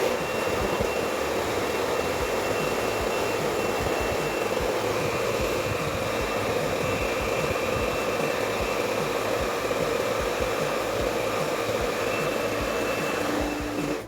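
A hot hair dryer blows steadily on hair butter, a loud constant whirring rush from start to finish, cutting off at the very end, no speech.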